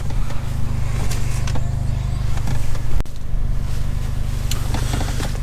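A Mercedes-AMG A45 on a tuned engine map drives along with a steady low engine hum and road rumble heard from inside the car, plus a sharp knock partway through.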